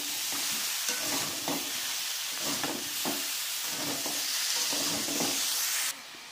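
Cauliflower roast with peas, salt and spices being stir-fried in a pan: constant close sizzle with rhythmic scraping and tossing strokes from the spatula, and the sizzle drops off sharply near the end.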